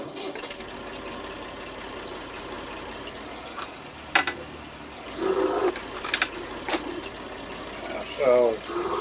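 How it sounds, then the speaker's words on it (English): A 1966 Ford 4000 tractor carrying a herbicide sprayer runs steadily at close range in a field, a continuous engine drone under brief bursts of voices and clatter. "The tractor with the herbicide on"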